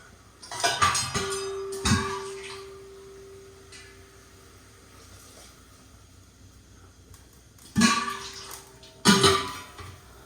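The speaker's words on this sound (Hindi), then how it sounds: "अब जो है वो है, तो हम इसमें पानी डालेंगे।" Water poured into tomato puree in a home cooking pot, clattering pot and utensil sounds at the start and again near the end, with a quieter stretch of running water and faint kitchen noise between them.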